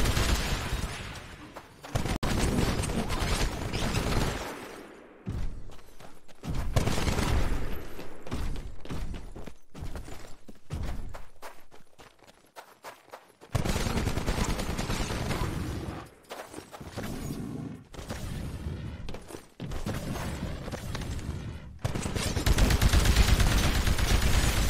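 Heavy weapon fire in Titanfall as an anti-Titan weapon is used against a Titan: loud bursts of gunfire and blasts come in repeated clusters with short lulls between them, close and without talking.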